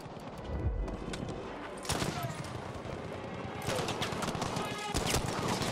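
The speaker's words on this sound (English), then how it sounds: "Getting shot at!" Sustained video game gunfire, a near-continuous fusillade of shots with bursts intensifying partway through, heavy close impacts at the start, and players shouting over the shooting.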